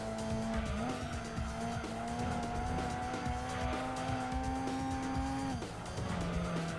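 A race car in the Gran Turismo 2 video game slides with sustained tyre squeal over a loud, steady engine drone, the pitch holding through the skid, then dropping briefly near the end.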